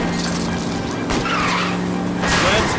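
Car tires skidding and squealing as a vehicle is spun out during a chase in L.A. Noire, a loud engine roar with two rising screeches of rubber in quick succession.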